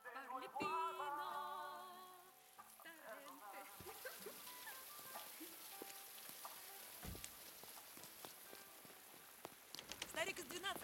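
Rain falling outdoors in a drama scene, a steady patter of drops on surfaces running through the whole stretch, with people talking over it and brief clatters and knocks mixed in.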